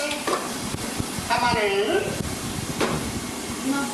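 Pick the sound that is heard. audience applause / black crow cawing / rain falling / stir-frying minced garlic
stir-frying minced garlic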